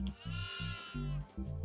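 Goats in the horror game Devour bleat loudly and repeatedly, several overlapping cries in an uneven series of calls with short gaps between them, close by and with no talk over them.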